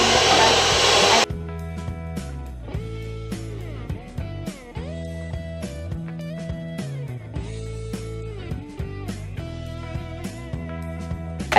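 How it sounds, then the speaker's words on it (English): An electric hand mixer beating butter for icing whirs loudly for about a second, then stops as music takes over for the rest of the stretch. "Okay, Ira, I'm going to start mixing."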